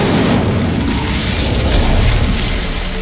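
Incendio fire spell from Hogwarts Legacy, a loud sustained roaring burst of flame with a deep rumbling low end that holds steady for about three seconds, with no talking.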